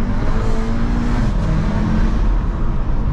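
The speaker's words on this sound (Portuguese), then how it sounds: "Fundo o pé no kick down pra você ver, ó." Heavily tuned Volkswagen Passat with a 500 hp engine under full-throttle kickdown, a loud, close, continuous engine roar with a low droning tone that rises and shifts partway through.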